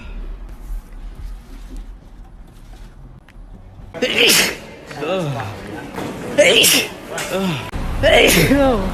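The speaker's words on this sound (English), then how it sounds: "First sneeze in Ireland." Several loud sneezes burst out in quick succession after a quiet stretch of faint background noise, with gasping and exclamations between them, at a Eurovision event in Australia.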